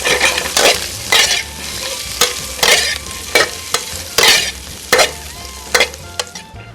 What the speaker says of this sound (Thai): หอยนางรมนี่เอามาทอดทอดเสร็จแล้วก็ เอาทอดกับเนยสดครับ